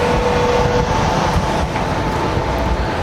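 A train idles at a station with a steady low rumble and a faint high tone, continuous and fairly loud, with no one speaking.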